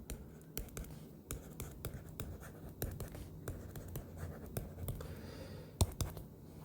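Pen scratching on paper while writing out a factoring problem in a math lecture, a quiet close run of short strokes and taps with brief pauses between them, with no talking.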